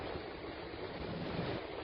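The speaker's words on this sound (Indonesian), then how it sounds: "pemukulan ombak itu dia bisa menghantam rumah warga" Continuous roar of tidal surge waves pounding the coast near village houses, a steady broadband wash with no voices, heard close and fairly soft.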